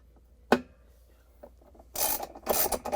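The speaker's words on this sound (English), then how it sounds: "I'm going to start manually and continue with the socket wrench" A socket wrench ratchets a 7/16 bolt into a Whirlpool washer washplate: a sharp click, a soft tap, then two short bursts of rapid, close ratcheting.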